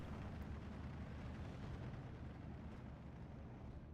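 Artillery shells a town in the wargame Steel Division 2, a dense, faint rumble of continuous distant explosions rolling on without pause.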